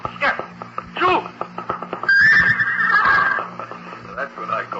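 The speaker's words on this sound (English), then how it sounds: "That's what I call a horse with spirit." A spirited horse whinnies loudly in a paddock, a long shrill neigh rising amid people shouting close by.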